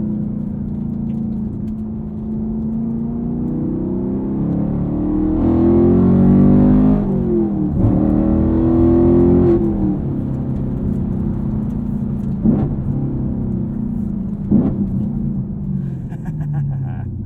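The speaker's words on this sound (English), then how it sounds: "If you need a V8 in your lives, this will do the trick." A V8 engine revs and pulls while driving, a loud continuous rumbling drone that rises in pitch through several climbs and drops, with sharp blips between shifts near the end.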